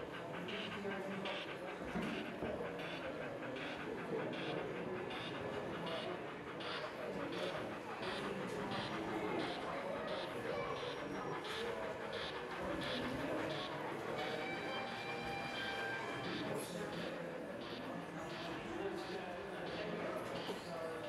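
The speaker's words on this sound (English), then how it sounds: "Heading London bound through the junction and on past the Electric Multiple Unit Depot, N-Class 260-31401 tops a mixed goods." An N-Class steam locomotive hauls a mixed goods train past an electric multiple unit depot at a junction at Basingstoke, a steady low rumble with regular chuffing beats throughout while someone narrates over it.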